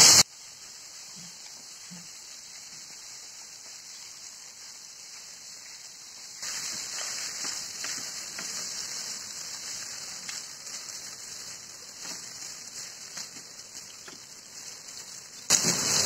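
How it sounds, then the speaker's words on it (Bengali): Pasta frying in a pan gives a soft, steady crackle that grows noticeably louder and busier partway through, then keeps sizzling evenly with no talking. "আমি এখন পাস্তাটা একটু ভেজে নিব।"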